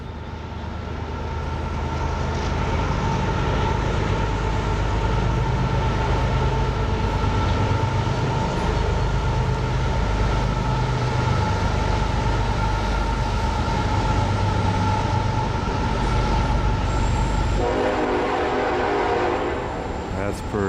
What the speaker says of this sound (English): Yeah, it's a train right over there.